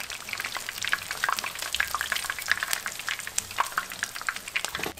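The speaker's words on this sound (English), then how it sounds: "These will fry up in less than a minute if your oil is nice and hot" Hot dog quesadillas fry in hot oil with a dense, crackling sizzle and scattered sharp pops, steady and close, with no voices.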